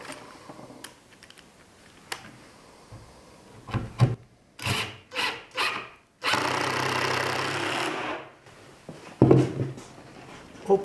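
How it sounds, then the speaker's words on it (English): Screws are driven into a wooden easel frame with a power driver, heard as a few short bursts and then one longer whirring run, mixed with scattered clicks and knocks, close and fairly quiet. "So now we can start putting the screws into this and"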